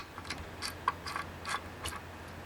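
Screws being backed out of the cooling system inside a ZOTAC ZBOX ID18 mini PC, a series of small, quiet mechanical clicks and ticks spaced irregularly over a low background hum, close and faint.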